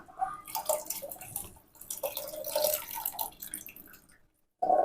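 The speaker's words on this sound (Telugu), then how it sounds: "కొంచెం వాటర్ ఎక్స్ట్రా యాడ్ చేసుకొని" Water trickles and splashes into a pot of rasam in uneven bursts, close and moderately loud, then a brief silence before a final splash.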